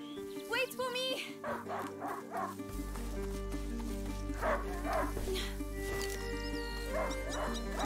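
A hunting dog in A Plague Tale: Innocence gives a run of short, sharp barks and yips, some nearby and some softer, over a sustained musical drone with intermittent talk.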